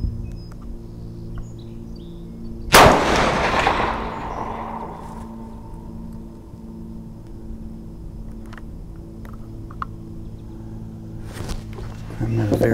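A single loud .444 Marlin rifle shot cracks outdoors toward a target at 200 yards, followed by a long fading rumble and echo, then quiet ambience with a faint later rustle.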